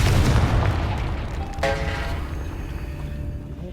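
The Confringo spell in Hogwarts Legacy blasts apart a barricade with a loud, close booming explosion at the start. A bright magical crackle and ringing tail follow, then the sound fades, with no speech.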